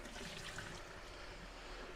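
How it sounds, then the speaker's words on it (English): Water drains off soaked potatoes in a kitchen, a faint, steady pouring and trickling wash that lasts about two seconds with no talk. "I'm just going to drain off this water."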